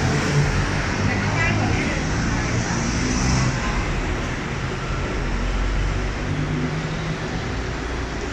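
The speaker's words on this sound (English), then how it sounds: "You see how busy the traffic is here" Dense city road traffic on a busy multi-lane street in Bangkok, a continuous loud rumble of car and motorbike engines with steady roadway noise throughout, people talking over it.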